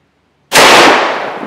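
A single loud, sharp pistol shot from a 10mm or .45 Super hardcast lead 200-grain load cracks out of silence, then decays into a short ringing tail.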